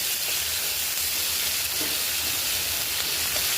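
Chopped onions frying in hot oil for a fish-head and ash gourd dish, giving a steady, even sizzle and hiss that stays constant and fairly close throughout, with no talking.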